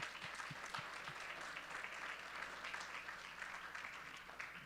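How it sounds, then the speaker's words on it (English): A round of applause for the Tech and Innovation judges at the Ignite WV competition day, steady, even clapping from an audience, fairly distant and faint, continuing throughout without a break. "let's give the Tech and Innovation judges now a round of applause"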